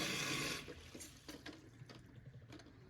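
Water rushes into a toilet tank through the fill valve, a loud hiss that cuts off abruptly as the float rises, leaving faint drips and trickles behind.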